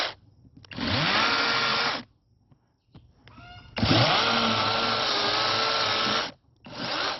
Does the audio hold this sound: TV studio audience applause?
no